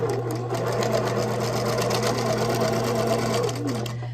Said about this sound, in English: I can just get to sewing right away